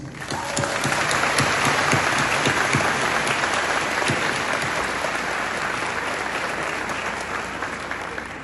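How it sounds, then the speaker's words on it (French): An audience at a formal council gathering applauds steadily, a dense wash of clapping from many hands that stays loud throughout and eases slightly toward the end. "Que tes yeux découvrent une éclosion des roses de gratitude à travers ce concert d'applaudissements"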